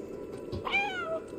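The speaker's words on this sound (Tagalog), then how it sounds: "Uy, meow, meow, meow." A cat meows once in the video game Stray, a clear rising then falling call heard alone against soft background ambience.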